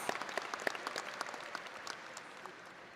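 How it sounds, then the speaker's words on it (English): Audience applause at a career technology center senior graduation ceremony, many hands clapping in a hall, crisp at first and then thinning out and fading quietly. "Let's continue to give our students a round of applause."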